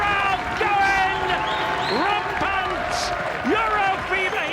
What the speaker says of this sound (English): Ronnie gets the crowd going.